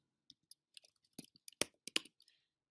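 Scattered keystrokes on a computer keyboard, quiet and close, typed in irregular short bursts with uneven gaps and no talk.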